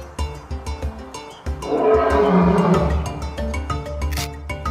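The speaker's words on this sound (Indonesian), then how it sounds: "menggunakan suara aumannya yang kuat, untuk menandai kehadiran mereka" A male lion roars in the wild, a loud, close, swelling roar lasting a couple of seconds that rises out of quieter background sound and then fades. No one speaks.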